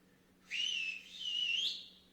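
A person practicing whistling on their fingers blows one shrill whistle that holds, dips briefly, then swells again and rises in pitch at the end, clear against a quiet background.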